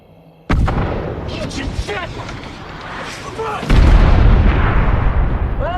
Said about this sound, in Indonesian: Ledakan mortar mengguncang pangkalan.